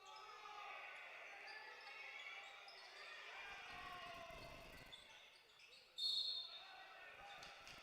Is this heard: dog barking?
no